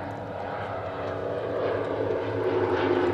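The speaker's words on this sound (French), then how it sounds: "Un magnifique son, c'est moteur Renault en ligne" Airshow aircraft powered by inline Renault engines fly past at an air base open day, a steady droning engine roar that swells slightly louder toward the end.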